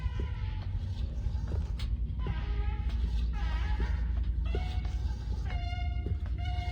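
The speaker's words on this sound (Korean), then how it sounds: "뭐 의자 소리야? 뭘 끄는 소리 같은데?" In a horror video game, something like a chair is dragged across the floor, giving a run of grinding, creaking scrapes and squeals over a low rumbling ambience.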